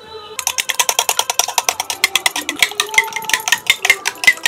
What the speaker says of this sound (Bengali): 3টে ডিম ফাটিয়ে ওর মধ্যে লবণ, হলুদ আর গোলমরিচের গুঁড়ো দিয়ে ভালো করে ফেটিয়ে নিচ্ছি